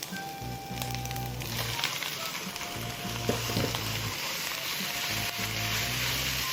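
Marinated pork with pepper and ginger sizzles steadily in a hot pan with oil and leeks, a dense, continuous frying hiss close up, with low bubbling pulses underneath and no talk.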